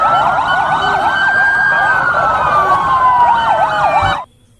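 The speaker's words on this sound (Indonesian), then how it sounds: "ini adalah mobil ambulans" A toy ambulance siren wails in a fast electronic warble, loud and continuous, then cuts off abruptly near the end.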